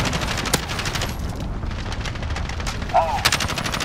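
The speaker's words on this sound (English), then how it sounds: "Enemy cruise missile." Loud in-game gunfire and explosive impacts from a cruise missile strike in Modern Warfare on the Shoot House map, with sharp bursts over a dense, noisy battle background and voices talking over it.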